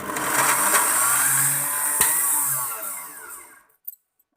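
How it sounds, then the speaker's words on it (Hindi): A juicer grinder purées boiled carrots for baby food, its motor whirring loudly and steadily up close for about three seconds before winding down to silence, followed by a brief clunk. "अब इनको आराम से निकाल के जूसर में डाल देंगे और अब कर देंगे इनको ग्राइंड बहुत अच्छे से।"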